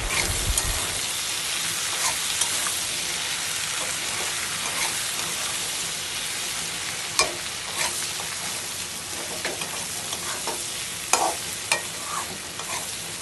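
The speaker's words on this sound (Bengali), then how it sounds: "এবার ভালো করে নেড়ে নেব।" Spices of turmeric, red chilli powder and cumin powder sizzle steadily in hot oil in a pan while being stirred, with a continuous frying hiss and occasional scraping strokes, no voices.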